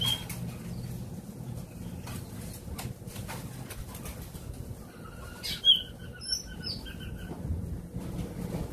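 Small caged forest birds sparring with a wild-caught bird, giving a few short bright chirps and trills midway through, over a steady low rumble of outdoor background noise.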